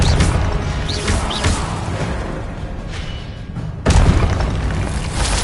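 Confringo fire spell explosions in a Hogwarts video game, a loud booming blast with crashing impacts, whooshes and a heavy rumbling tail, followed by a second sharp detonation midway.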